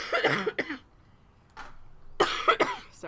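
A man coughing and clearing his throat indoors, two close bursts at the start, a soft one midway and another pair near the end, separated by quiet.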